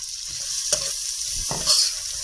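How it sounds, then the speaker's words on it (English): Onions frying in a pan with a steady close sizzle, broken by two or three sharper spatters and stirring scrapes, loud and alone without speech. "Just going to let that splatter. And I'm going to cook the onions till they're nice and soft."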